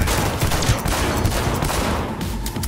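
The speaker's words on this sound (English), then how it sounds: "Auto gun." An automatic gun in Cyberpunk 2077 fires a dense, continuous stream of rapid shots, loud and close, with no talking.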